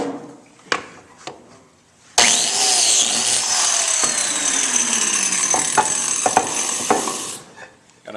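A biscuit joiner cuts a slot into a wooden table leg, with a few handling knocks before the motor whines up loudly and runs steadily for about five seconds, then winds down.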